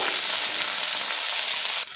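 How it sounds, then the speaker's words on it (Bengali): Loud, steady sizzling of potatoes and peanuts frying in hot oil in a pan fills the whole clip, with a slight drop in intensity at the very end. "একসঙ্গে এগুলো ভাজা ভাজা করে নেব।"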